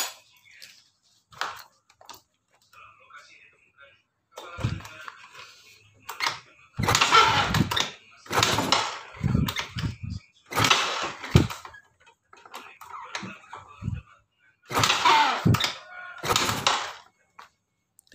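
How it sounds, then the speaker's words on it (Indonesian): Repeated kick-starting of a Yamaha Soul GT motorcycle whose injector will not spray, several strong mechanical bursts of cranking close by, separated by short pauses. "kita coba engkol lagi."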